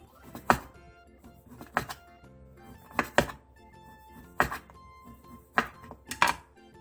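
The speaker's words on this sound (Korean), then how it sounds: "동그란 소세지도 원하는 양만큼 얇게 잘라주세요" A knife thinly slices round sausages on a cutting board, giving six evenly spaced sharp chops with soft handling noises between them, close and clear with no talking.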